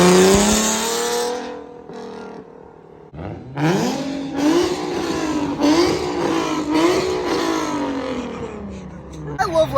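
A Nissan G37 with a loud Tomei Expreme Ti exhaust and test pipes revs hard, its pitch climbing and dropping in repeated surges, with a brief lull before the roaring resumes close by.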